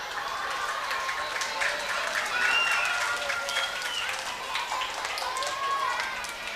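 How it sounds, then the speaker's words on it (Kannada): An audience at the Kudla Sampada event applauds steadily, a moderately distant wash of many hands clapping without pause. "ಎಲ್ಲರೂ ದೊಡ್ಡಕ್ಕೆ ಚಪ್ಪಾಳೆ ತಟ್ಟಿ ನೋಡುವ."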